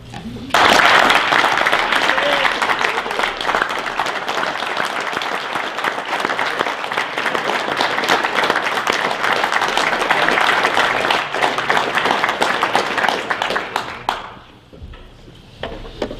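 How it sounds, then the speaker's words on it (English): Loud, sustained applause from a large crowd at a hockey honour roll ceremony fills the space for a long stretch, then fades down near the end. "One more big round of applause"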